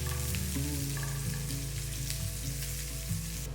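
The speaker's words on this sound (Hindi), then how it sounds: "अनियन को हल्का सा पिंक होने तक सौते कर लेंगे" Finely sliced onion sautéing in oil in a pan alongside a few cloves, a steady close sizzle and crackle with occasional stirring noises and no talk.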